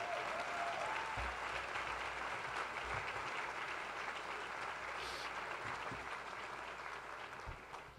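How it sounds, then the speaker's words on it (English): A crowd applauds at a press conference announcing a new university president, a dense and sustained wash of clapping from a moderately distant room audience that holds steady throughout. "Let's give them a big round of applause."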